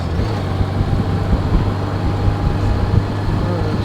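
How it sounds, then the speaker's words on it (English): A continuous low rumble of road traffic, engines droning steadily and fairly loud throughout, with no distinct passing vehicles standing out. "all the noise and hustle and bustle, the traffic"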